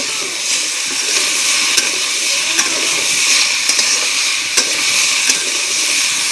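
Bottle gourd and pumpkin sautéing in a pan for a Bengali curry with koi fish, a steady close sizzle with soft scraping stirs and occasional clinks of the spatula against the pan.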